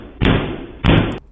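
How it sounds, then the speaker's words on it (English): Two heavy thuds about 0.6 seconds apart, each followed by a booming rumble, as studio doors are kicked close by. "He kicking doors."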